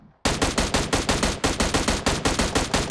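Rapid automatic gunfire in PUBG Mobile, a loud close burst of about twenty evenly spaced shots after a brief quiet start.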